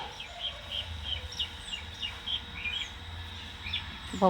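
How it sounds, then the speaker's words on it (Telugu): A mother hen and her chicks in a village, with repeated high, thin chirps scattered throughout at close range over a low background hum. "అమ్మ కోడి పిల్లలు"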